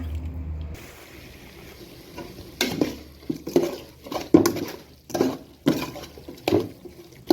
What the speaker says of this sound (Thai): ผัดให้หอมก่อนนะคะ